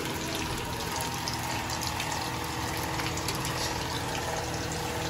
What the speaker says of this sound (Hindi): उधर मैं थोड़ा सा फ्राई पैन में हाई फ्राई कर रही हूँ इस तरह से